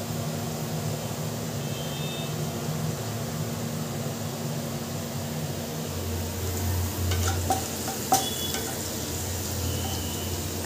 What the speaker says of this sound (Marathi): फ्राय करते मी तेलामध्ये आणि राई टाकलेली आहे